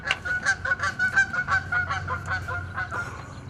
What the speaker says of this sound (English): the noise of the geese